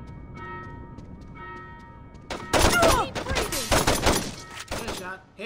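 Gunfire in the video game Saints Row 2: a burst of loud, rapid shots erupts midway and continues in clustered volleys over quieter game ambience, with someone talking over it.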